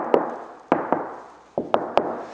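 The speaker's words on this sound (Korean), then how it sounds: "손 노크하듯이 두드려 보면은" A hand knocks six times on the lightweight, firm high roof of a 2022 Kia Carnival limousine camper van, giving irregular hollow thuds with short decays, close and distinct.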